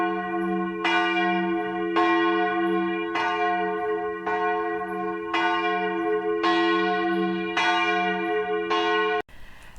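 A church bell named Catherine, on the Vézelay route of the Compostela pilgrimage, tolls about eight times in slow, even strokes, each ringing out with a long humming decay before the next.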